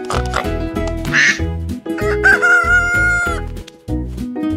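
Cartoon farm animal sounds, a rooster crowing and a duck quacking, ring out over a bouncy children's music backing, bright and close for a few seconds.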